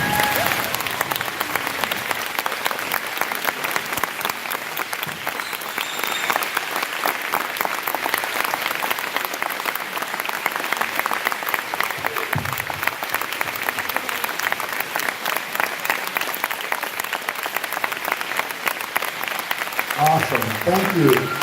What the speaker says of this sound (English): we have some wonderful veterans here that we now need to stand and applaud